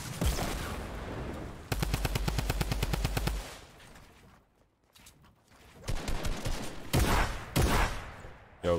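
Rapid bursts of automatic gunfire with a sniper rifle shot in a first-person shooter video game: a long, loud, fast volley, then separate heavy blasts with quieter gaps between them.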